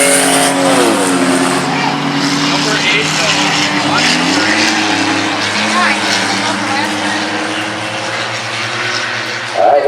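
Race cars roar around a dirt track on the first lap of a forward-backward race, a dense, loud, continuous engine drone with shifting pitches as cars pass, and an announcer speaks over it.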